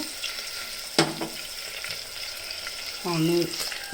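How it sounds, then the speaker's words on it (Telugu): A blended gravy for a Guntur-style eggplant curry fries in a pan with a soft, low sizzle, broken by a sharp utensil clink and a brief scraping stir near the end. "గ్రేవీ మిక్సీలో వేసుకుంది. కొంచెం వేగనివ్వాలి."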